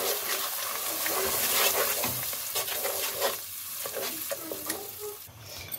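Masala of salt, ground red chilli, turmeric and coriander powder being stirred in a pan for achari dal, with steady scraping strokes over a continuous close sizzle and no voices.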